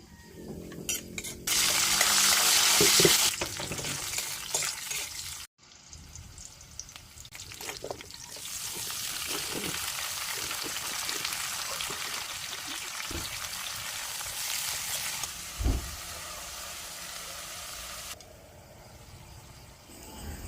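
Vegetables frying and being stirred in a hot pan, a loud steady sizzle with scraping and clinking from the stirring, briefly cut off midway before the hiss resumes and runs on.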